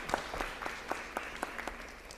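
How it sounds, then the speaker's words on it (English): A brief, sparse round of applause at a school district meeting, a few distinct claps spaced out over about two seconds in a quiet room. "we can give him a round of applause."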